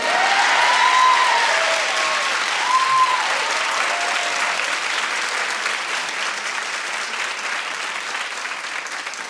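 Studio audience at a daytime talk show breaks into loud, sustained applause that holds steady for about nine seconds, with faint whoops near the start and no speech over it.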